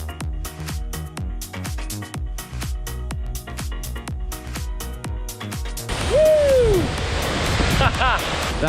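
A waterfall on a multi-day hike near Landslide Lake and Foster Lake on Vancouver Island, heard as steady broadband rushing water that swells in during the last few seconds after a stretch of rhythmic beats, with a brief whistling tone over it.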